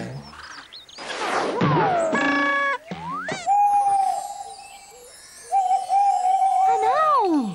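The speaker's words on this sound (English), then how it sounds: "An owl! I hope Bumpy didn't wake it up." Cartoon sound effects with whistling, sliding tones and a long steady hoot-like call from an owl, separated by short gaps, then a falling wavering cry near the end.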